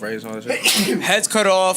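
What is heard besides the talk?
sneeze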